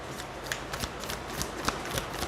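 A deck of tarot cards is shuffled close by in a rapid riffle of soft flicks and slaps, with no talking.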